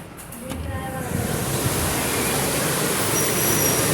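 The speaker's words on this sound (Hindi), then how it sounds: "बारिश हो रही है, आ जाओ बाहर, बहुत तेज।" Heavy monsoon rain pours down outdoors in Noida, a dense, steady hiss that builds and holds throughout, with a voice calling out early on.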